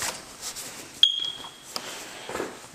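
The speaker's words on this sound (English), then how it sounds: "Battery required for that smoke detector that just chirped." A single short, high electronic chirp from a smoke detector with a low battery in a house, sounding once about a second in against quiet room tone and faint footsteps.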